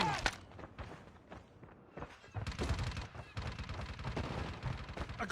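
Bursts of gunfire and footsteps in a shooter video game, with sharp cracks and rapid clusters of shots over a faint, quiet background and no clear speech.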